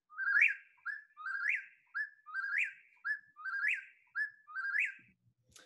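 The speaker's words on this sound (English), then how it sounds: "let's play the whippoorwill now" A played recording of a whip-poor-will repeats its whistled call again and again in a quick, steady rhythm, clear against silence, ending with a faint low thump.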